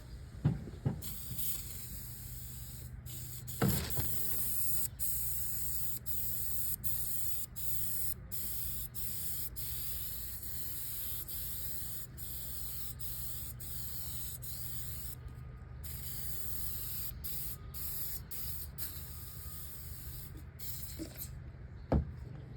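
A second coat of repair finish is sprayed onto perforated leather in repeated short hissing bursts with brief pauses between them, close and fairly quiet, with no talking.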